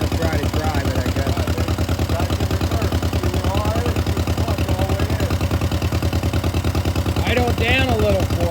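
A 1948 John Deere M tractor engine runs steadily at a close, loud, even putter, with a faint clatter and short bursts of talk over the top.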